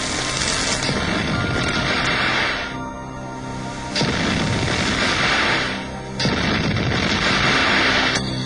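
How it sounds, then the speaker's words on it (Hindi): Dynamite blasts at a hillside mining site in the Braj hills of Rajasthan: three loud booming bursts, each followed by sustained rumbling and debris noise, with a short lull between them. "राजस्थान में आने वाले ब्रज की ज्यादातर पहाड़ियों पर धमाकों की ये गूंज"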